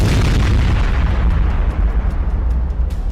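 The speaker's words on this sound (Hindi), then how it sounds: "उन्होंने बंकर बस्टर के धमाके किए।" Bunker buster bomb explosions thunder as a loud, continuous deep rumbling boom with crackling bursts on top, filling the whole stretch without any voices.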